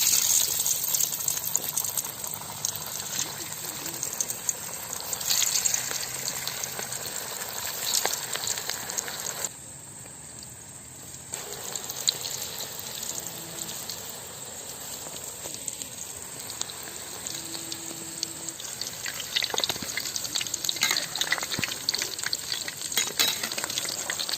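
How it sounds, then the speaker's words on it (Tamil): Raw banana bondas fry in hot palm oil with a dense, steady crackling sizzle, close and loud, dipping briefly partway through before resuming. "உருட்டி வச்சிருக்கிற போண்டாவை எடுத்து எண்ணெயில் போட்டுடலாம் நல்லா எண்ணெய் சூடாயிடுச்சு"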